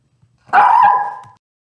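A dog gives one loud, close bark, stretched slightly at the end, at a woman walking past; quiet before and after.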